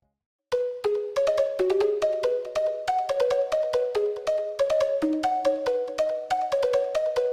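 A bright hyperpop synth lead plays a plucky, bell-like melody in a steady dotted-eighth rhythm, repeating notes and stepping between pitches. It sounds clear and close, with no voice over it.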